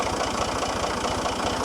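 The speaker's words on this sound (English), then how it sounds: "This workhorse tractor has been running for almost 3 days, so now it's time to put some diesel in." A farm workhorse tractor's diesel engine idles steadily close by on an olive farm in Portugal, a constant loud rumble with a regular low knocking pulse and no talk over it.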